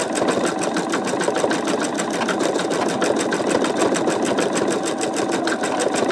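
An embroidery machine stitches out a sugar skull design with a rapid, even mechanical clatter of needle strokes under a motor hum, steady and close throughout with no talking.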